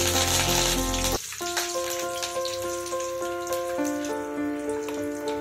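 Curry leaves hit hot oil already holding chana dal, mustard seeds and urad dal for onion chutney tempering, starting with a loud hissing burst that drops after a second into a lighter, steady sizzle with some crackle.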